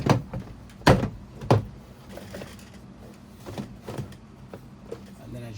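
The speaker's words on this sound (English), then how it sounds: "we're gonna pull the door panel" Plastic clips pop loose with sharp snaps and thunks as the front door panel of a 2009–2013 Toyota Corolla is pried off, several close cracks and knocks in an uneven series with rustling between them.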